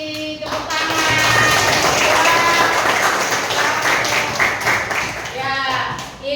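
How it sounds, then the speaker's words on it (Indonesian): A classroom audience breaks into steady applause, a dense sustained patter of many hands clapping that holds for several seconds before fading, with a voice speaking briefly at the start and end. "Tepuk tangan."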